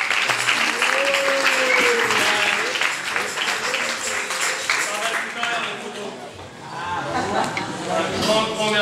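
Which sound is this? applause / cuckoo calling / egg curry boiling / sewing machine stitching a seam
applause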